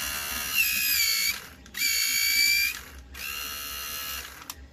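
A vintage 1978 Kenner Star Wars toy laser pistol makes a high-pitched, whirring mechanical ratchet sound in three bursts of about a second each, separated by brief pauses, loud and close.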